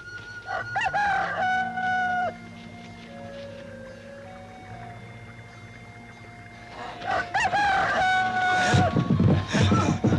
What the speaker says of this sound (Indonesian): Ayam jantan sudah berkokok!